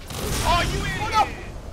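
Gunfire in the Halo Online game: a short burst of a few shots and booms in quick succession, loud and close, with a voice talking over it.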